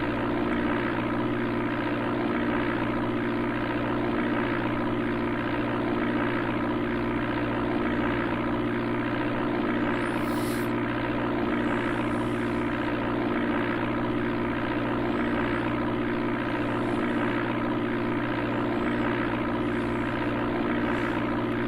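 Steady, unbroken drone of a propeller plane engine from the Amiga game Flight Simulator II, a constant synthesized hum holding at one pitch throughout with no talk.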